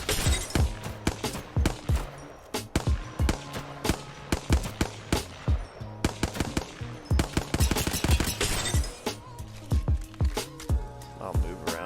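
Single-fire shots from a Hemlock rifle in Apex Legends, a steady series of sharp, punchy cracks spaced in quick bursts throughout, loud and close with a faint voice in places.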